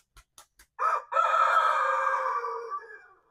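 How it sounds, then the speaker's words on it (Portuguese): A rooster crows once, loud and close: a drawn-out call that trails off after a few faint clicks and taps. "Achei que o galo fosse cantar."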